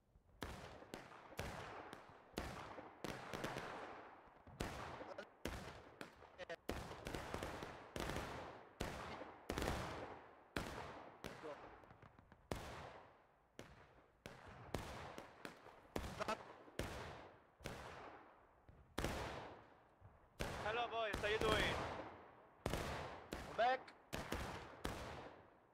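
Musket fire in the Civil War game War of Rights, with many sharp individual reports cracking out irregularly over a long stretch, some close and some farther off, overall fairly faint.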